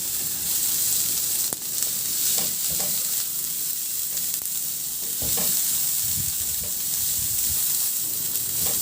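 Sliced onion and carrots stir-fry in a hot pan, a steady loud sizzle with scraping stirring strokes throughout and no talking.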